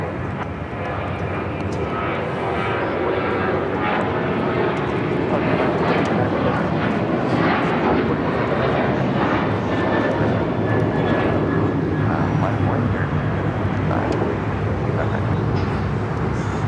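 A fixed-wing airliner takes off at Los Angeles LAX airport, its engines building into a loud, sustained jet roar that holds steady and broad throughout, heard from nearby.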